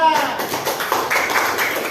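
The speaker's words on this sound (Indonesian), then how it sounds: "Ya, kasih tepuk tangan untuk kelompok 3." Classroom clapping for a student group, a short burst of hand claps from children mixed with a few young voices.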